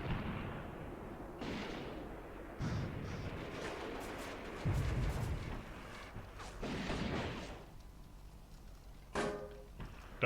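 Gunfire and artillery rumble through a Graviteam Tactics battle as MG42 positions come under fire, with dense continuous low booms and scattered sharp cracks, one loud high shot near the end.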